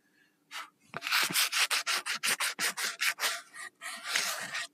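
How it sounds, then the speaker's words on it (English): Rapid back-and-forth rasping of sandpaper on wood, a quick rhythmic run of about a dozen strokes, close and fairly loud. "Just gonna have to do some sanding on it"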